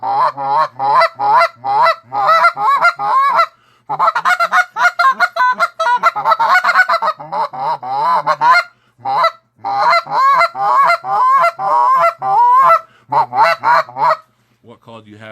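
A hand-blown goose call imitating a large Canada goose, producing a long run of loud, close honks and clucks in rapid rhythmic bursts with brief pauses between sequences.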